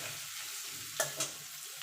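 Ginger is stirred in a pan over low heat for a chicken stew. A gentle steady sizzle is broken by two quick, sharp spatula scrapes in close succession, heard up close with no voices.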